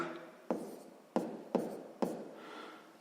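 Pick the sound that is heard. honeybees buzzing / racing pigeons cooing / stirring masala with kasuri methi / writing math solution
writing math solution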